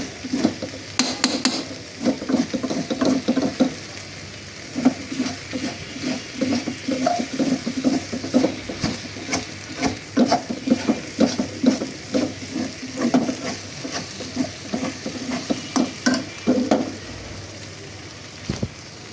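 Okra stir-fries in a pan as bhaji. A steady sizzle runs under repeated rhythmic scraping and stirring strokes, close and fairly loud, for nearly the whole stretch. No talking is heard.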